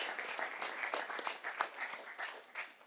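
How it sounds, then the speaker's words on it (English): A room of attendees at an evening school board meeting applauds students, a steady patter of many hands clapping at moderate distance, with no talking over it. "another beautiful round of applause for our students who did a fantastic job"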